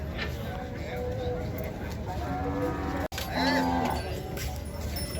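Cattle at an outdoor cow market in Chaiyaphum, Thailand, moo in several drawn-out calls, fairly close, while people talk nearby amid general market bustle.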